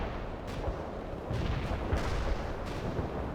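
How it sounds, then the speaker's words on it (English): Napalm strike in the World in Conflict war game, a rolling barrage of deep, rumbling explosions and crackling fire with repeated booming impacts, loud and dense, no voices. "Targeting napalm strike on the coordinates."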